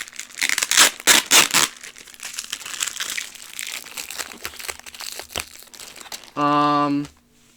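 Plastic packaging around Beyblade toys crinkles and tears in loud bursts, then rustles and crunches more quietly, ending with a brief steady tone.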